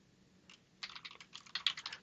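Rapid typing on a computer keyboard, close and fairly quiet: a few isolated keystrokes, then a dense run of uneven clicking with no talk over it.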